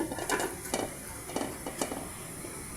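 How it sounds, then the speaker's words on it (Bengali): A metal pot being set inside a larger pot on a stand for baking a cake without an oven: several light metallic clanks and scrapes ring out at an uneven pace, fairly close and quiet, with no talking. "এই পাতিলের মধ্যে আমি বসিয়ে দিতেছি।"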